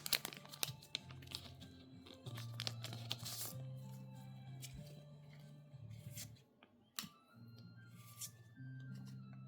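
Scissors cutting open a Yu-Gi-Oh card booster pack, close crinkling foil and snipping with several sharp cuts and rustles, over a low steady hum.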